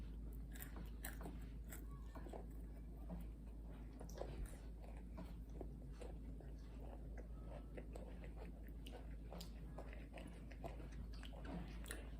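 Someone bites and chews Pepero yogurt-coated snack sticks, producing close, crisp crunches and small mouth sounds repeating steadily over a low constant hum, with no talking.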